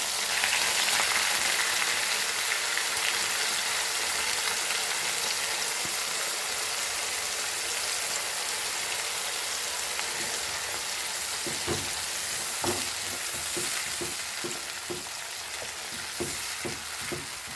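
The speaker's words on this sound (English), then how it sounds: "Fry this nicely." Tomato puree frying in a pot for Goan beef curry, giving a dense, steady sizzle up close, with a few spoon taps and scrapes coming in toward the end.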